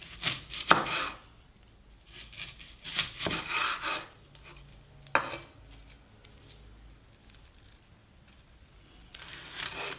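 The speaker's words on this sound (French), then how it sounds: "Je vais couper mon oignon également." Knife chopping an onion on a cutting board in a home kitchen, with quick bursts of close, sharp chops separated by pauses and a final flurry at the end.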